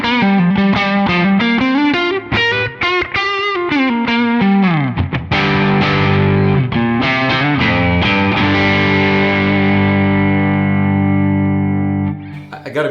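Electric guitar through a Kemper amp profile with an overdrive pedal built into it, loud distorted picked phrases with bends, then long sustained chords that fade out near the end.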